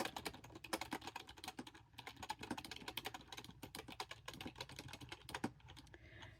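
Rapid, steady typing on a keyboard paired with an e-reader, a close and continuous patter of key clicks with no talking.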